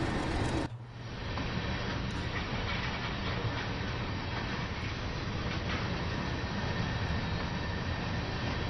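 A pair of Class 31 diesel locomotives rumble steadily in a train simulator, a constant broad engine drone that holds unbroken after a brief dip at the start.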